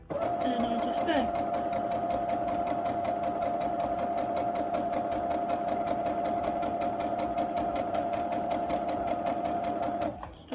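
A sewing machine runs a long, even stitch while quilting, its rapid mechanical clatter holding a steady rhythm close up for about ten seconds before stopping.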